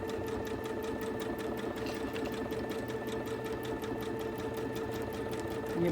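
A sewing machine stitches a quilt with a steady, fast, continuous mechanical whir and rapid needle rhythm. The sound stays loud and close, with no talk over it.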